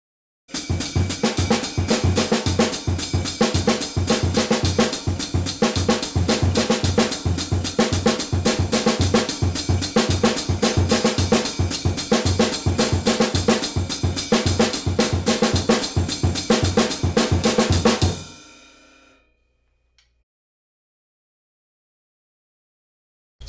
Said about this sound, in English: we can complete the pattern by adding the hi-hat in unison with our left hand on the ride cymbal